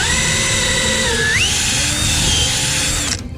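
A cordless drill runs continuously as it bores into a workpiece, its steady motor whine dipping and rising in pitch once under load, then cutting off abruptly near the end; loud and close, no talking.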